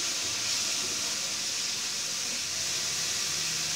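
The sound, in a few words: cabbage being cooked in a pan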